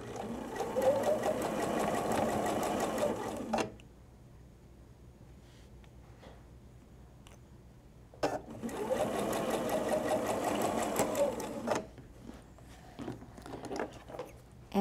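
A sewing machine stitches 100% cotton patchwork pieces with cotton thread for a Civil War quilt sampler, running in two steady whirring bursts of a few seconds each, separated by a quiet pause with faint handling noises.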